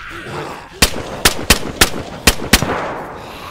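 Gunfire in the survival game DayZ, shooting at zombies. Six loud, sharp shots ring out at a fairly even pace over about two seconds, each with a short echo tail.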